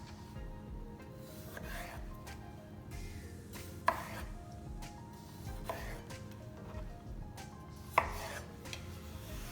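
A knife cuts Goan choris sausage meat into big pieces on a board, with soft scraping cuts and a few sharper knocks of the blade, close but quiet.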